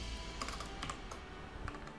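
Fingers type on a computer keyboard in quick, uneven bursts of light clicking keystrokes, close and fairly quiet, with no talking.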